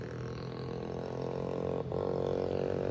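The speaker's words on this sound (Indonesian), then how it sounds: "itu suara knalpot nggak hilang-hilang sih." Steady low engine and exhaust drone from motorbikes on Malioboro street in Yogyakarta at 1 a.m. on a quiet night after rain, a continuous rumble with a brief dip near the end.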